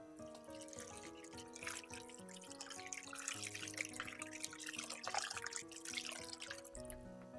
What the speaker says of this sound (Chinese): 然后往里面加入1小勺食盐，再往里面加入温水